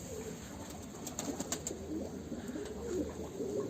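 Pigeons coo steadily inside a pigeon loft in the section holding the females, a soft, continuous murmur of overlapping calls close by.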